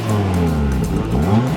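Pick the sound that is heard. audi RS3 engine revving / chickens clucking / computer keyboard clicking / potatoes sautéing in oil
audi RS3 engine revving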